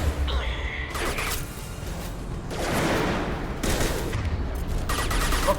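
Rapid gunfire and a heavy concussive shot burst out in the shooter game Mass Effect 2, with loud crackling volleys in several separate waves, and a short pause between each one.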